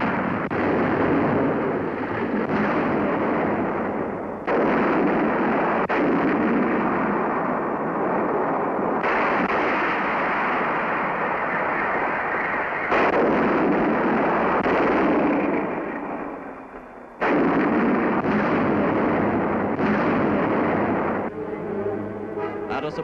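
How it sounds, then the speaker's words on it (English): A British artillery barrage fires on the Italian town of Orsogna during the Allied drive toward Rome in wartime, heard as sustained loud rumbling blasts in long overlapping bursts with brief gaps, all without speech. "The barrage begins."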